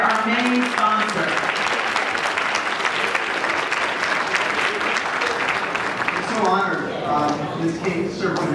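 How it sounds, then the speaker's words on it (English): Steady, dense applause fills the hall at a youth empowerment gala and awards night, continuing loudly throughout, with a voice briefly heard over it near the start and again near the end. "Let's give a round of applause"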